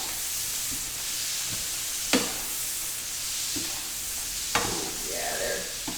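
Onions fry in a pan with a steady soft sizzle, broken by a few sharp clatters of stirring, fairly quiet in a home kitchen.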